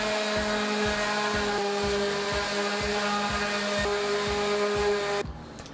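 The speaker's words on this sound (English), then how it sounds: "So I'm going to swap out to a finer sanding pad." A power sander works over reclaimed wood with a finer sanding pad, a loud steady motor whine with a regular pulsing beat, running alone for about five seconds before cutting off abruptly.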